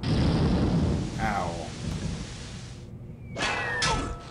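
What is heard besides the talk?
thunder and rain sound effect in You Don't Know Jack video game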